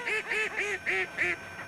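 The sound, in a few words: ducks quacking as a flock takes off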